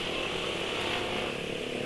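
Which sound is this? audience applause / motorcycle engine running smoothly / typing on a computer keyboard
motorcycle engine running smoothly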